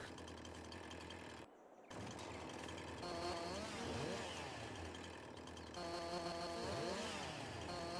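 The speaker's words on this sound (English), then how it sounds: "Chainsaw does not want to work." A chainsaw in Farming Simulator 22, running with a steady buzzing engine drone and rising and falling revving strokes, loud and close with a brief cutout early on.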